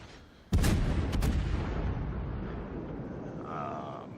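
Secondary guns on a warship in a naval battle video game fire one close, loud boom followed by a couple of quick sharp reports, then a long rumbling decay.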